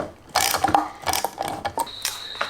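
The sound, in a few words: tightening the prop nut on a Lowrance Ghost trolling motor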